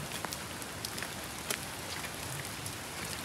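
Heavy rain pours steadily in the Kolli Hills, a dense hiss of drops with scattered sharper splashes close by.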